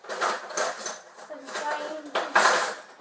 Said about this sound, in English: I've got my plate here, down there, and also I've got my butter knife